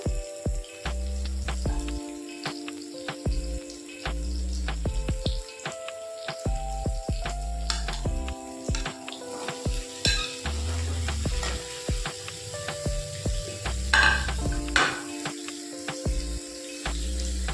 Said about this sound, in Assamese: এতিয়া লাহে লাহে লৰাই দিব যাতে পনীৰখিনি ভাঙি নাযায়।